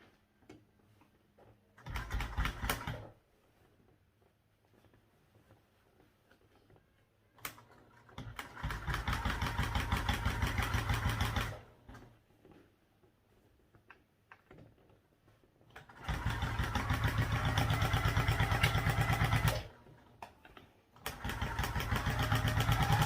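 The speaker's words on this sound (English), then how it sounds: "we'll just sew a little 1/8 of an inch top stitch there to sew up your pocket" A sewing machine running a 1/8-inch top stitch along a backpack pocket, stitching in three long steady bursts with quiet pauses and a short run near the start, close and alone with no talking.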